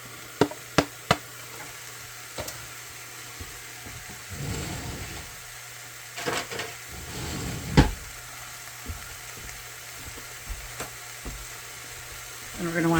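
Ground turkey and chopped onion sizzle in a pan, a steady low frying hiss running throughout with a few sharp clicks early on and scattered scrapes and knocks of utensils against the pan.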